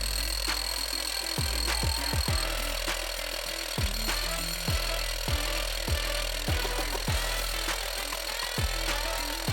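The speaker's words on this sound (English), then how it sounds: "Drilling might be the most important part." Drilling a hole for a SafeBase wall anchor, a heavy powered drill running loud and close with repeated rhythmic thumping bursts, like a hammer drill biting into the material.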